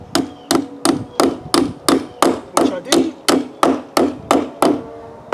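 Hammer striking metal decking clip wings down onto timber, about a dozen loud, evenly spaced close blows at roughly two per second, with a brief spoken remark partway through.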